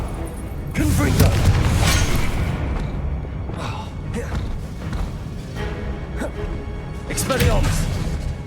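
Confringo fire spell blasts in the Hogwarts Legacy video game, several loud booming bursts with crackling debris at about one, four and seven seconds over a steady rumbling game backdrop.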